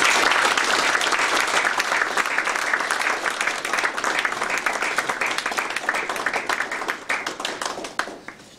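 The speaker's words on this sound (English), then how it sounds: "we have a big round of applause for Murli" An audience at an event gives a big round of applause, a full, sustained burst of many people clapping that stays strong for several seconds, then thins and fades away toward the end.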